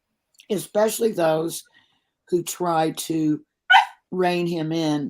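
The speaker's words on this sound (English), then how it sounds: "I'm so sorry about the dog yapping." A dog yaps briefly in the background while someone talks about politics, its sharp little barks mixed in among his speech.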